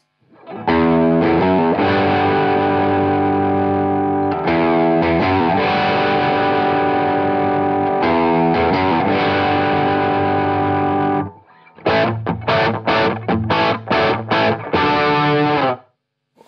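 Electric guitar played through a Tube Screamer overdrive pedal, loud sustained distorted chords ringing for about eleven seconds, then a brief pause and a burst of tight, choppy staccato strums.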